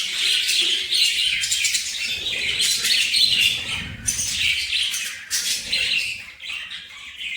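Pet birds in a breeding coop chirp and tweet continuously, a dense, close chorus of overlapping high calls with some squawks and no talking.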